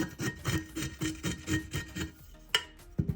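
Glitter epoxy on a tumbler is trimmed and sanded flat in a quick series of rhythmic scraping rasps, about a dozen close strokes followed by a pause and a couple of sharper scrapes.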